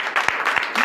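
A church congregation applauding during a night prophetic service in Comè, Benin: a short burst of dense clapping with a few sharper individual claps standing out.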